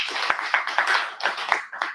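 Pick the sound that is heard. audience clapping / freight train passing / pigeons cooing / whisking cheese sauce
audience clapping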